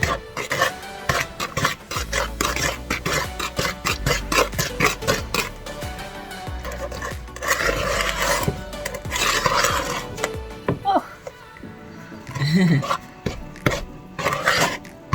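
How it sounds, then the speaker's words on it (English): Thick ginger molasses cookie dough is stirred in a bowl, giving steady scraping and thudding strokes throughout, fairly close and loud, with brief pauses and a heavier knock near the end; no one speaks. "It's getting thicker. Harder to stir."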